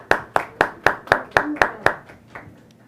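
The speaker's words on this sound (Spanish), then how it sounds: "Un aplauso para ustedes." A single pair of hands claps about eight times in an even, moderately paced rhythm, then fades out with a couple of softer claps.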